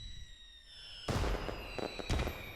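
Video game fireworks in Pac-Man Championship Edition 2 burst in two sharp crackling pops over a quiet electronic tone, the second burst following about a second after the first.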